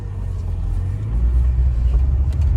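A classic Ford Sierra driving, heard from inside as a steady low engine and road rumble that swells slightly midway, close and continuous with no talk.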